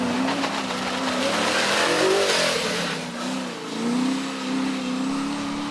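A rebuilt race car engine revving on track at a British club championship meeting, its tone rising and falling through several throttle swells, moderately close and with no talk over it.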